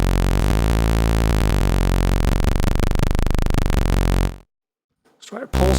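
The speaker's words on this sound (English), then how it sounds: "Let's try a saw wave." A buzzy, bright sawtooth wave synthesizer oscillator tone in Bitwig Grid with a rapid pulsing texture plays loudly for about four seconds, stops abruptly, then a brief burst of noise follows.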